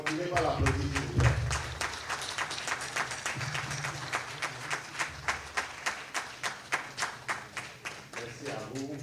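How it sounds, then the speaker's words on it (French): An audience at a Cotonou arts event applauds, first a thick wash of clapping under a voice, then settling into steady rhythmic unison claps that grow even and evenly spaced. "On va continuer par l'applaudissement."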